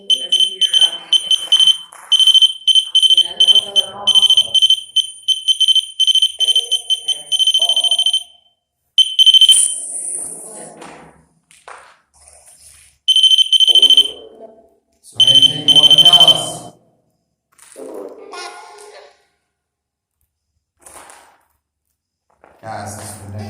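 A REM pod ghost-hunting device sounds repeated shrill electronic alarm beeps in bursts of varying length, alternating with people talking in a quiet space.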